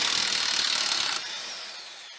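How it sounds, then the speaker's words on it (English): Impact wrench rattling a 21mm nut loose on the front suspension of a Fox Body car, a dense steady hammering buzz that drops slightly in level partway through, close and alone. "you're gonna have to hold on to the nut with your wrench and then impact it from the other side"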